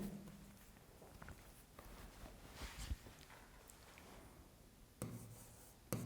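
Quiet, scratchy strokes of a definition being written on a board, coming in short intermittent bursts with a few faint knocks and shuffles in a still room.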